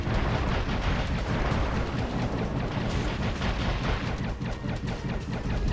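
Gunfire blasting glowing orbs underwater in Dave the Diver, a dense, continuous barrage of booming low-end bursts that runs nonstop and loud throughout.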